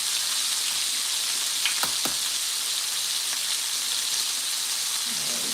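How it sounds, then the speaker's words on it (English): Eggs fry in a frying pan with a steady, bright, hissing sizzle. A couple of sharp clicks from the pan break through, and the cooking sits close and fairly loud, with no talking. "we're going to crack in our eggs to start frying up our eggs."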